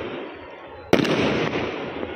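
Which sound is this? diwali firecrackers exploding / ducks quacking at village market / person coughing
diwali firecrackers exploding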